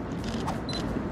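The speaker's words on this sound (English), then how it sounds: "I'm just going to try to have the drive mode into high speed shooting so that I can just keep clicking the shutter button" A Sony camera with a 50mm f1.2 GM lens firing its shutter in high-speed burst mode during outdoor portrait shooting in Florence, Italy, giving a brief quick run of soft close mechanical clicks over street ambience.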